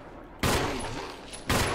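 Gunfire in the Resident Evil video game: two loud, sharp bursts of shots about a second apart, each cutting in abruptly over a low steady background.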